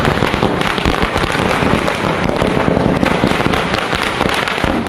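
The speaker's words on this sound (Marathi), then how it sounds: "फटाके वाजवून जल्लोष करण्यात आला" Dense, continuous crackling bursts of firecrackers going off in rapid succession at a street chowk celebration in Miraj, loud and close, with no pauses for the full duration.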